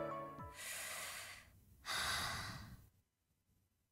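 Breathing from Origami, an anime girl in a visual novel dating game set in an empty classroom: two long, loud breathy exhalations with a short gap between them, then near silence.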